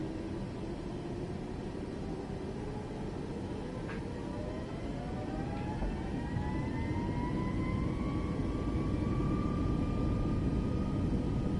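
A jet engine in Microsoft Flight Simulator 2024 spools up to full throttle: a steady, loud roar with a whining tone that climbs gradually in pitch over several seconds, with no talking.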